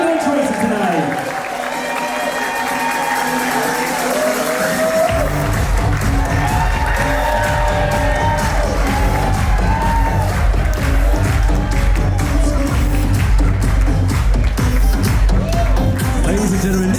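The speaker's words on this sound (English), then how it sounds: "Esos aplausos, por favor." Wedding guests break into loud applause and cheering at a reception, with sustained clapping and whoops filling the room as a host's voice carries over the crowd.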